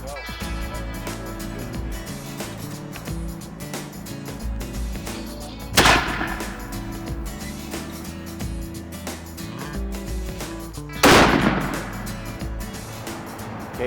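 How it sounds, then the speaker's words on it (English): Two loud, sharp muzzleloader rifle shots ring out several seconds apart outdoors during an Arizona elk hunt, over a bed of steady music. "Okay, Bob, those shots all look real good, man"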